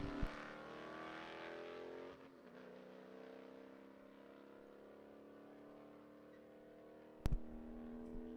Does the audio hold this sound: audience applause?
no